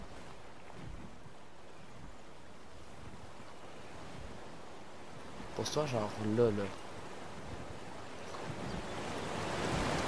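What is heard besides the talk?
wind blowing in the video game Ark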